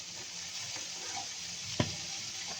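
Leftover chips frying softly in butter with onion in a pan, a quiet steady sizzle with a single sharp clink near the end.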